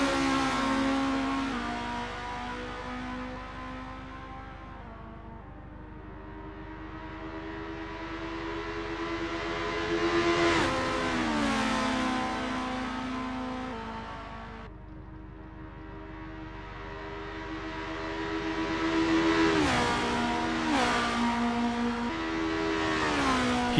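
Formula race car engines in Assetto Corsa practice at Kyalami, loud and continuous, with rising and falling revs, sharp gear-change blips and sweeping pitch climbs repeating roughly every ten seconds, no voices.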